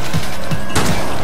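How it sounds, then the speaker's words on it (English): Power-shot gunfire from the zombie shooter game Dead Nation, blasting at helmeted biker zombies: a quick run of heavy, booming shots with a stronger blast near the end, loud and up close with no talking. "this power shot does not take out all the zombies"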